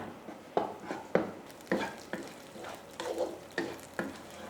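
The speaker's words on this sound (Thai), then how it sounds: "เราจะผัดพริกแกงให้มีกลิ่นหอมก่อนนะคะ" Massaman curry paste stir-fried in a pan, a soft sizzle broken by repeated scraping strokes of a spatula in an uneven rhythm, close and fairly quiet.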